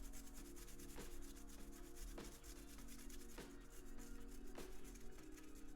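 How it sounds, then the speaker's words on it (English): A brush scrubs back and forth over a mechanical keyboard's circuit board to clear away leftover solder bits and flux, giving a close, rhythmic rasping with strokes about a second apart. "Just to clean off all the excess solder bits."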